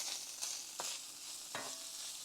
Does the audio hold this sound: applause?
no